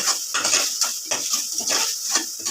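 Chicken pasta masala stirred in a pan, a spoon scraping and knocking against metal in a repeated rhythm of short clatters, close and without voices.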